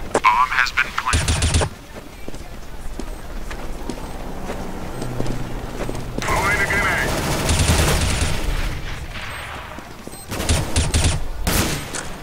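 Repeated bursts of gunfire in a bomb-defusal shooter video game, loud and close, with rapid volleys at the start and end and a busier stretch in the middle; a voice talks over parts of it.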